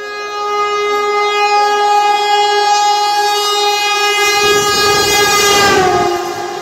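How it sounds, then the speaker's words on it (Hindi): Vande Bharat Express (Varanasi–New Delhi) passing Etawah Junction at high speed, with a loud sustained horn blast lasting several seconds, strengthening as the rumbling train draws near and sweeps past. "Vande Bharat express high speed से क्रॉस करती हुई इटावा जंक्शन को।"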